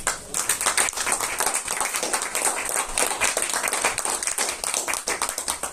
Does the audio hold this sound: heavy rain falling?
no